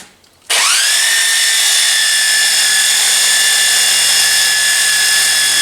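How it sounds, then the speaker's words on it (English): A small electric sander with 60 grit paper starts abruptly and then runs at a loud, steady high-pitched whine, working a 1995 Vert body for side scoops, alone with no speech. "to use my little electric sander"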